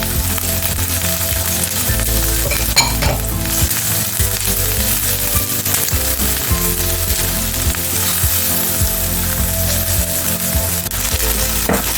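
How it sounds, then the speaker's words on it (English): Corn frying in a pan as the base for a fish pie, with a dense continuous sizzle and occasional stirring scrapes, close and steady throughout with no talk. "have to allow the corn to fry for some time before adding the rest of the ingredients"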